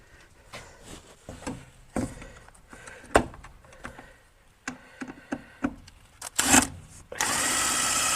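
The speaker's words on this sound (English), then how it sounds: "Just screwing it down." In a shed, scattered knocks and clatter lead into a power drill driving deck screws into a piece of wood, its motor buzzing loudly and steadily for the final second, close by.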